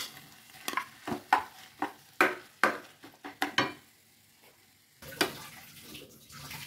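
Potatoes are stirred into chicken masala in a pan. A spoon scrapes in quick, irregular strokes, a dozen or so soft scuffs with a faint sizzle underneath, and a few quieter scrapes follow after a short pause.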